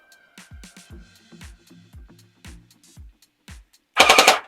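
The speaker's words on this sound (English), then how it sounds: "This gel blaster is shit. Well, it shoots." A homemade gel blaster turret fires a string of sharp, evenly spaced shots about every half second, ending in a loud, dense rapid-fire burst.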